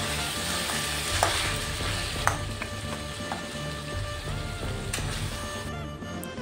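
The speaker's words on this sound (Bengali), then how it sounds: "এবার এটাকে একদম ভালো করে মানে নাড়িয়ে চাড়িয়ে দেখুন টমেটোগুলো একদম গলে গেছে" Chicken pieces with softened, melted tomatoes frying and being stirred in a pan, a continuous close sizzle with frequent scraping and clinking stir strokes, no talking.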